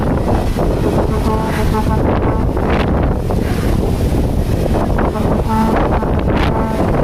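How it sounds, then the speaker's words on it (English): Strong wind gusts through a Seattle city park, buffeting the microphone with loud, rumbling surges and whooshes that rise and fall over several seconds, close and continuous. "Wow, it's super windy here. Super, super, super windy."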